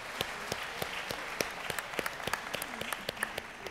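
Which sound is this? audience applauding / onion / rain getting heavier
audience applauding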